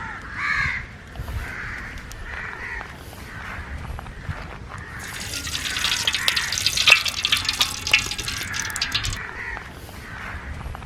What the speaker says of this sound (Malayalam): അപ്പം കുറച്ച് വെളിച്ചെണ്ണ അങ്ങോട്ട് ഒഴിച്ചേക്കാം.